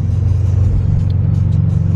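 A slammed Scion FR-S engine idles and rumbles loudly up close, a steady low drone with slight revving over two seconds and no voices.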